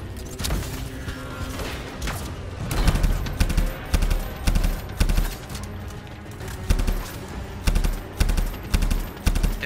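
Rapid gunfire from the video game Anthem crackles in loud, dense bursts, a fast stream of shots over a steady rumbling game backdrop with no pauses.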